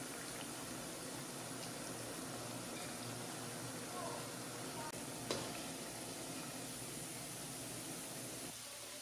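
Shakar pare dough fries in oil with a soft, steady, continuous sizzle, quiet and even throughout, with a faint clink near the middle.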